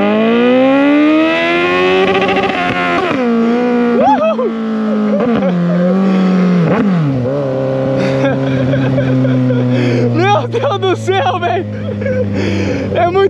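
A Suzuki GSX 750 motorcycle engine revs loudly, its pitch climbing and dropping in surges, with an excited voice talking over it.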